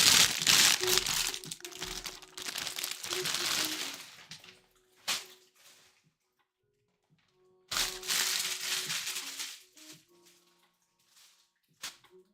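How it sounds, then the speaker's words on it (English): Loud crinkling of plastic LEGO parts bags in two long bursts separated by quieter gaps, with brief rustles and clicks between, close to the microphone. "Bags seem really extra clanky, crunchy, and crispy."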